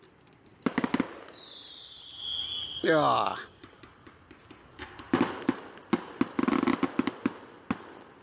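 Fireworks closing the Pan Asia Hash 2022 event: a whistling rocket climbs, then sharp bangs and crackling bursts go off in a scattered series, with a brief voice at the start.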